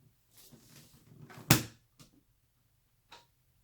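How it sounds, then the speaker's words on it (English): A small skincare fridge door swings shut with one soft, close thump, followed by a couple of faint clicks in a quiet room. "Now I can close this door."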